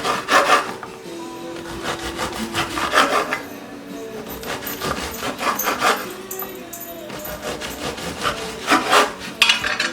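A knife saws through a crusty French baguette loaf, making repeated rough, scratchy rasping strokes close by, each slice a burst of crackling crust.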